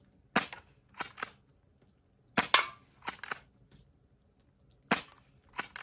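A Crosman PSM45 airsoft pistol fired at a gallery-style target setup: sharp, close snapping shots spaced irregularly, some in quick pairs, with quiet gaps between and no talking.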